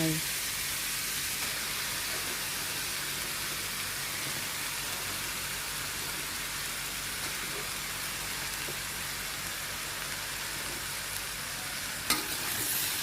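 Pork and mixed mushrooms stir-frying in a pan, a continuous hissing sizzle like light rain that holds steady and close, with a single sharp clack near the end and no talking.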